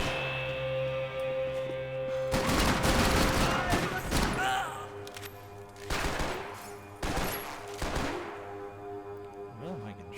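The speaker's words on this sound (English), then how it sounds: "Where am I getting shot from?" Gunfire aimed at the player in Max Payne 3 crackles in several dense bursts with short pauses between volleys, loud over a steady humming game background, with a voice talking at times.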